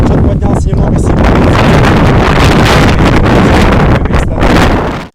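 Strong wind buffets the microphone while fishing outdoors, a loud continuous roar with gusty thumps that cuts off abruptly at the end.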